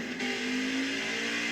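A race truck's engine in NASCAR Heat 5 at Pocono Speedway holds a steady high-pitched whine after a brief blip, a loud continuous tone with no talk over it.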